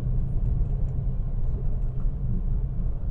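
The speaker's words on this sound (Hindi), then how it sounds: "अभी फोर्थ गियर में चला रहा हूँ 40 की स्पीड से" A car cruising steadily in fourth gear at about 40 km/h, a continuous low engine and road rumble heard from inside the cabin without a break.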